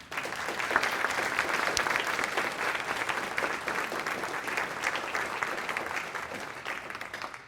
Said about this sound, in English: hope you will join me in a round of applause for our panelists